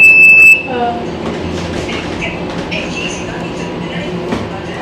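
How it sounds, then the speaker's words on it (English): Train rolling through a station platform in Toronto, a steady rumble with faint wheel squeal and clatter, preceded by a brief loud tone and overlaid with indistinct voices. "So the train will be ready in 20 minutes."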